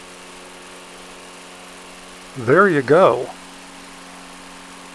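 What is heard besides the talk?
Toro lawn mower engine running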